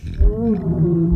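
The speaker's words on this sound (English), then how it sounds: "that is the sound of my stomach demanding tacos" A low, drawn-out gurgling rumble that rises and wavers in pitch, like a growling stomach, close and continuous for about a second.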